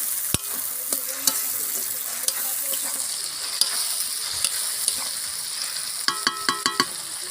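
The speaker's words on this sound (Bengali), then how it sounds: "পেঁয়াজের সঙ্গে আমি ভালো করে এটাও ভেজে নিই" Steady sizzling of onions and paste frying in a pan, with occasional scraping and clinks of a spoon stirring.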